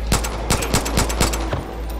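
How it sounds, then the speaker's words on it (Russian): Rapid automatic gunfire in Far Cry 5, a string of evenly spaced loud shots roughly every quarter second over a steady low hum, no talk. "Стреляй вот в этого!"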